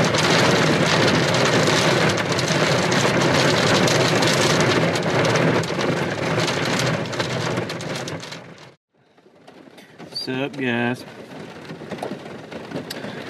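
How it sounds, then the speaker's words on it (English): Steady rain pours down heavily outdoors on public hunting land, a dense hiss that suddenly cuts out, followed by a man's brief greeting over lighter rainfall. "Well, it's raining"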